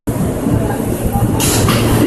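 An MTA R160 subway car runs as a Q train on the Brighton Local, giving a loud, continuous rumble and roar of wheels on track with no voices, brightening into a hiss near the end.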